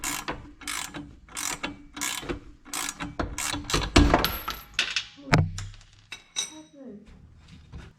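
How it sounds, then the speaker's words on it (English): A ratchet clicks in quick repeated bursts while undoing the nut on a Bilstein 5100 shock on a 5th Gen Toyota 4Runner, the shock body held with channel locks; close metallic clatter with a few heavier clanks and some background speech. "we're gripping this part of the shock body with some channel locks while I'm undoing the nut"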